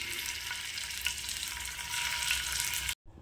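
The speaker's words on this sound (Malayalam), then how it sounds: "വെളിച്ചെണ്ണ ചൂടാൻ തുടങ്ങുമ്പം ഗ്യാസ് ലോ ഫ്ലെയിം വെച്ചിട്ട് ഓരോന്ന് പറക്കിക്കിട്ട് കൊടുക്കാം" Prawns frying one by one in hot coconut oil on a low flame, a dense close crackling sizzle with small pops, cut off abruptly near the end.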